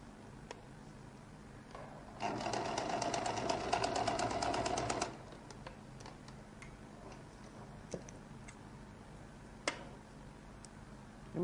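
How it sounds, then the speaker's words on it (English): Sewing machine stitching along the collar edge of a lady's jacket, a close, loud, steady rapid mechanical whir lasting about three seconds, with scattered clicks before and after. "Sew by the side."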